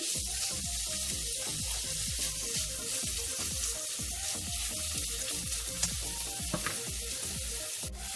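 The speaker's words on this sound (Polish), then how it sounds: "boczek z cebulką nam się smaży" Diced smoked bacon and onion fry together in a pan for borscht, a loud continuous sizzle with crackling pops and occasional stirring scrapes, no talking.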